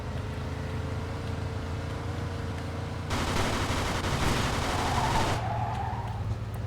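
Police gunfire in the crime video game Mafia 2 bursts in midway as a dense rattle of rapid shots over a steady low engine drone. It cuts off after about two seconds, leaving the hum alone.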